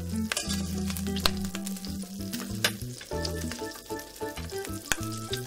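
Butter melting and sizzling in a pan over low heat while beef stroganoff is being made, a steady crackle under background music.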